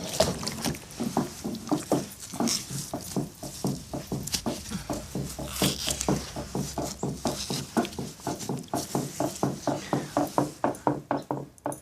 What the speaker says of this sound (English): someone's licking their bowl clean